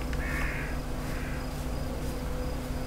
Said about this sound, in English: little bird's faking me out, man